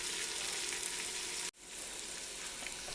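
Celery and carrots sauté in a pan for a chicken stew, giving a steady, close sizzle that cuts out for an instant midway and then resumes at full strength.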